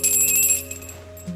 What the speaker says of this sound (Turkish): Duydun zilin sesini.